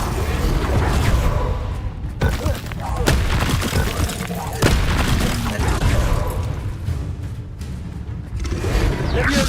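Spells cast in Hogwarts Legacy burst out as loud, dense magical whooshes, booms and crackling impacts in quick succession, layered over game noise, with a voice speaking among them.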